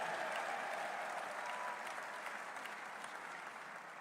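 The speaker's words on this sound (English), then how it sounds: "give that a round of applause" Steady audience applause filling a hall at a West Virginia University football coach introduction, dense and continuous, easing slightly toward the end.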